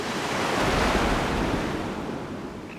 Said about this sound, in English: One side receives the brunt of the Indian Ocean's waves and weather.